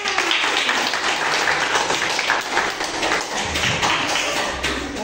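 A classroom of students claps for the winning group, a busy, steady patter of many hands nearby that keeps going at an even level for the whole stretch.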